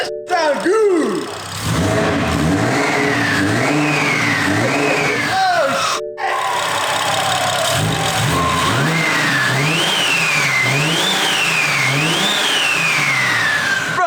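Big-turbo B58 engine in a BMW F30 340i revs repeatedly, pitch rising and dropping in quick surges across two bursts separated by a short cut, loud and close, with speech heard now and then.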